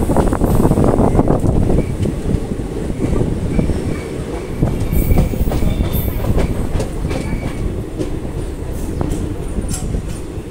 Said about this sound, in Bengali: আমাদের ট্রেন কিন্তু বোলপুর স্টেশন থেকে ছেড়ে দিয়েছে।